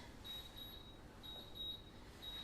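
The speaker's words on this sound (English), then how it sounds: "That's my buzzer" A faint electronic oven timer beeps in short high-pitched pulses, sounding three times in quick pairs over a quiet background hiss.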